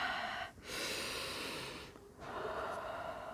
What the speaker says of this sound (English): some strong breathing